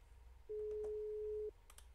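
A single steady telephone call tone sounds for about one second during a phone call, clear and alone against a quiet background.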